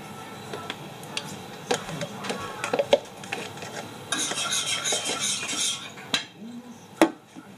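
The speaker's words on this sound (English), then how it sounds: "She's doing dishes." A small child playing with dishes at a kitchen sink, with scattered clinks of cutlery and utensils, rubbing and scraping, and a stretch of running water, all close by with no talk.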